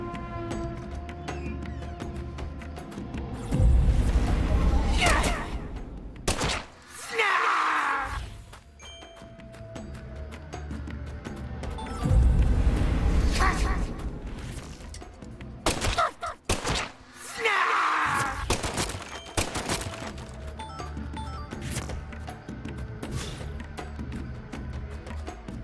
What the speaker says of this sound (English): Not so bad shooting in here.